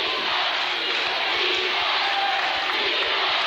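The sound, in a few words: basketball crowd noise in Ansonia gym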